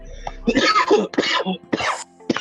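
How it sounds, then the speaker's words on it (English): Several harsh coughing bursts from people nearby after smoking, rough and broken, with brief gaps between them and some murmuring voices mixed in. "Let's all cough together."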